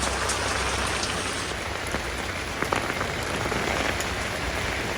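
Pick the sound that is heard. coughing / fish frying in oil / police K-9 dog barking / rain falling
rain falling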